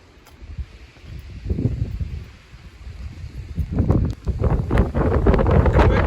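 Strong gusts buffet the microphone atop a mountain lookout tower on the Appalachian Trail in cold weather, rising and falling in loud rumbling bursts that grow heavier toward the end, with no one speaking.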